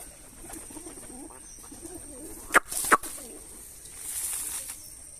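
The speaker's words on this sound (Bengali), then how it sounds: "তো কবুতরগুলো নেমে গেছে।" Free-flying pigeons coo softly nearby, then a couple of sharp bursts of wing flapping as the birds land, followed by more quiet cooing.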